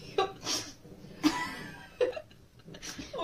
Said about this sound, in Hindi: मेरे तो पहले बार में खांसी आ रही है.